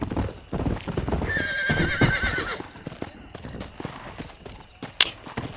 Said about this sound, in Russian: Лошадь не показывается на карте